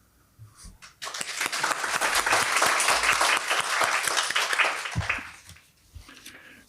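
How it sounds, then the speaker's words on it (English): Audience applause at a peace institute talk: a brief silence, then a dense burst of many hands clapping that swells quickly, holds for about four seconds and fades to a few scattered claps. "That deserves an applause."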